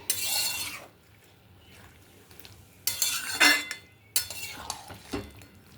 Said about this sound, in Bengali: এবার একটু নাড়াচাড়া করে ঢেকে দিই।